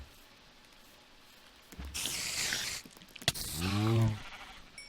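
A Minecraft sheep gives a couple of short, fairly loud bleats in the second half, over a quiet background.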